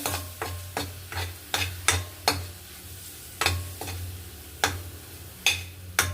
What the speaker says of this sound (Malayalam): ഇനി മല്ലിപ്പൊടി ഇത് രണ്ടും കൂടെ ചേർത്തൊന്ന് വഴറ്റിയെടുക്കാം